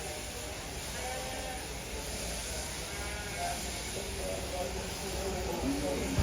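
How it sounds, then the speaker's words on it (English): Sheep bleating during a sheep shearing demonstration at the Devon County Show, a few faint calls rising over steady crowd murmur and hiss, with someone talking in the background. "If you watch Gavin, he's got his legs right in tight to the sheep all the time, so he's got total control of that sheep."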